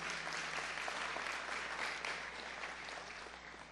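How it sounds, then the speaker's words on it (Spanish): A church congregation applauding in a steady, continuous wash of many hands, fairly loud and even throughout, easing off slightly near the end. "Dale un aplauso al Señor ahí donde estás en el día de hoy."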